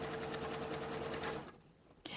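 A sewing machine stitches an automatic buttonhole on a skirt placket, a rapid steady whirring that cuts off after about a second and a half, followed by a short click.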